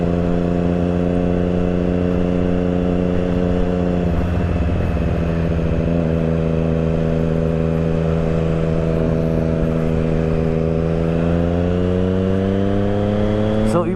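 Triumph Street Triple 675 motorcycle riding through a foggy, freezing Delhi winter morning commute, a steady close engine drone with harmonic whine holding pitch, then rising slightly near the end as it accelerates, with a voice talking over it.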